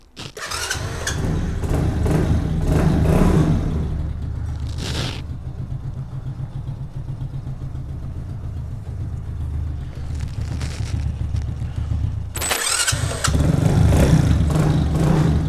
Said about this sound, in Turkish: Şimdi ustamız motoru çalıştıracak ve ilk çalışmasına bakacak.